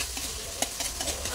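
Garlic sizzles in a hot pan for a seafood dish, with a steady frying hiss and a few soft stirring scrapes and clicks close by.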